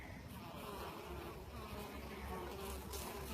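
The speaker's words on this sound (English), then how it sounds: "That is a bee coming out of its comb." Honeybees buzzing on a comb as one emerges from its cell, a faint continuous hum with low droning close by and no talk.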